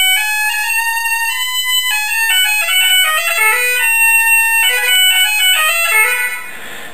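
An over-squeezed molded bagpipe chanter reed, its mouth blades pinched too close together, plays a shrill, piercing, very high-pitched run of notes loudly and alone, fading out at the end.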